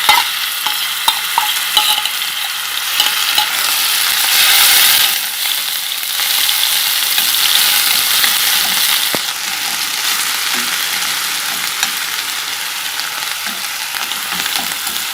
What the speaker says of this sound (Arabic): هو سخن، هبدأ انزل عليه دلوقتي البصل.